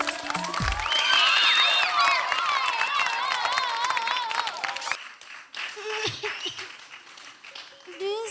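Audience applause and cheering for a children's drama troupe at a live talent show, loud and sustained at first with music or voices over it, then fading into quieter stage sounds and talk.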